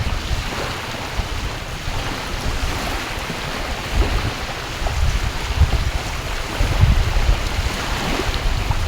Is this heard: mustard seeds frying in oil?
no